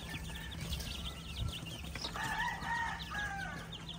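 Day-old chicks in a brooder pen peep in a busy, overlapping chorus with some louder chirps rising in the middle, close by and with no talking.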